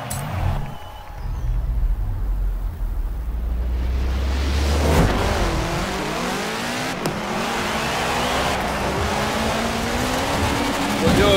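A car engine revs and races through a dirt race in the game Forza Horizon 4, loud and steady with rising and falling pitch sweeps and tire noise, while someone talks over it.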